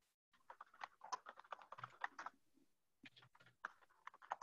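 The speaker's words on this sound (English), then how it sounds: "But your keyboard sounds fine." Keys on a computer keyboard clatter in quick, irregular bursts, faint and close up, with a brief pause partway through.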